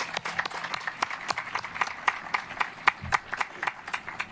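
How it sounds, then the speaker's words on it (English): Graduates and families applaud at a high school graduation ceremony, scattered, fairly sparse claps from a nearby crowd, moderately loud and continuing without speech. "How about a round of applause for these two individuals?"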